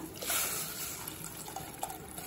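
Tamarind water poured in a steady trickling stream into a pan, close by, with small splashes and no voices.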